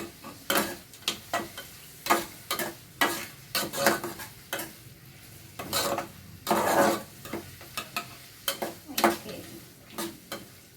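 A ladle repeatedly scraping and tapping through mango pieces sautéing in a pan for mango pachadi, rhythmic close stirring strokes over a soft sizzle, with no talking.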